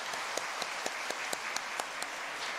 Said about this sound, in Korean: 우리 모두 감사의 박수를 보내주시기 바랍니다